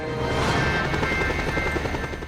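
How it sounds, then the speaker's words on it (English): Helicopter in the Just Cause 2 video game, a steady broadband rotor and engine roar that stays loud and continuous with a faint pulsing texture as the chopper flies off. "And the chopper has already ditched us."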